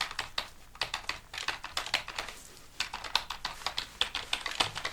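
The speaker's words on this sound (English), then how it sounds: "Let me type it in." Computer keyboard typing, close and crisp: rapid runs of clicky keystrokes with short pauses between bursts. Nobody talks.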